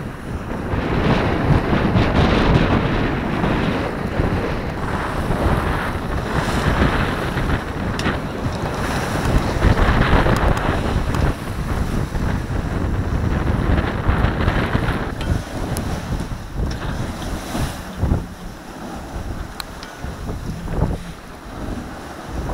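A solo sailboat crosses the Bay of Biscay close-hauled in a 12–13 knot wind, reaching about 6.5 knots. Wind buffets the microphone continuously while waves rush and slap against the hull.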